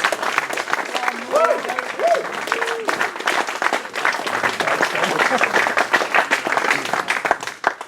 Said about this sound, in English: Give him a massive, massive round of applause. Whooping and cheering, guys!